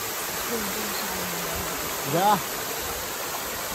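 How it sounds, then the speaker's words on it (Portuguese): Water rushes continuously through a waterfall in a steady broadband wash, with a person's short spoken word rising briefly above the flow. "aqui nós estamos aqui no meio da cachoeira"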